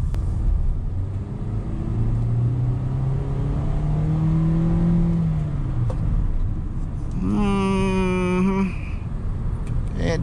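A 2023 Hyundai Stargazer GLS Premium SUV heard from inside the cabin as its engine rises in pitch under acceleration, then drops back during a manual downshift to fourth gear, followed by a sharp higher-pitched whine near the end over steady road rumble.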